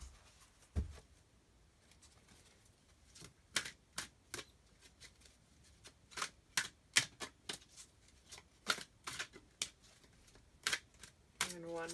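Tarot cards are shuffled and drawn, with sharp riffling snaps and soft card slaps in irregular bursts close by, and a riffle at the very end.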